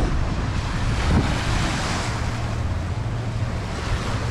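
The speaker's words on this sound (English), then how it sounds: "caribbean beach cancun" Caribbean surf rolls onto a beach in Cancun, a steady wash of waves mixed with gusty wind buffeting the microphone, loud and continuous with no talk.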